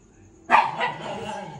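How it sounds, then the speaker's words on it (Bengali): A single dog bark, fairly close, followed by a brief trailing yip. "সারাক্ষণ শুধু ঘেউ ঘেউ করে"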